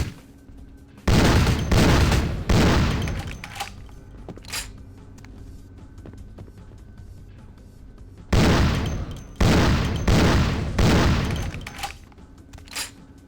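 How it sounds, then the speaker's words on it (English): Loud, booming gunshots in Vampire: The Masquerade come in two separate clusters of heavy blasts, each blast trailing off, with quiet gaps between the clusters. "Why is the volume on this gun so overtuned?"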